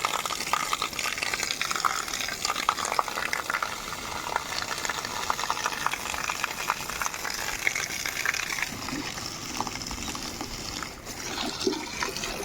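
Water sprays and splashes continuously onto concrete being cured at a house under construction, a close gushing hiss with uneven spattering bursts.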